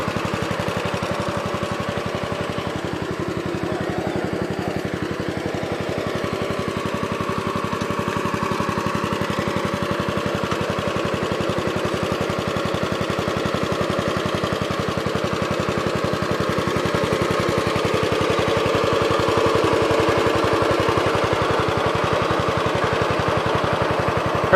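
A 1987 Gravely 12G walk-behind tractor engine runs steadily for the whole stretch, a loud, continuous rough drone with a fast chugging pulse and no talking.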